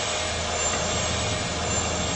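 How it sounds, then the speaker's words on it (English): Jet engines of Air Florida Flight 90, a Boeing 737, captured on the cockpit flight recorder during takeoff, a steady broadband roar running below full power with no breaks. "Those engines sure ain't at full power."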